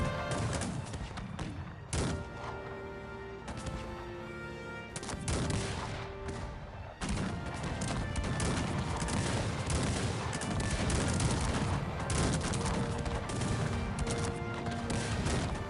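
Musket volleys crackle in the video game Cossacks 3, dense overlapping gunfire bursts rolling continuously for the whole stretch with brief gaps, loud and close, with no talking.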